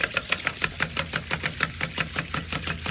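Ram water pump with a zero-pressure gauge starting up, giving a steady run of rhythmic knocking pulses about five times a second, a close, mechanical beat over a low hum, with no voices.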